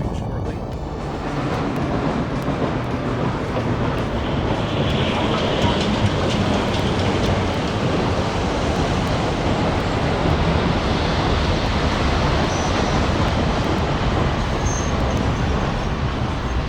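A video game train pulls into a station with a steady, dense rumbling roar that holds evenly for over fifteen seconds, with a faint, indistinct voice mixed low underneath.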